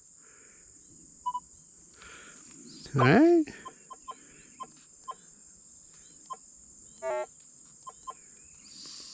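Short electronic chirps from a Minelab E-Trac metal detector pop up at irregular intervals over a constant high hum, with a brief spoken remark partway through.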